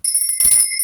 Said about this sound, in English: Let me ring this bell just to cleanse the air around us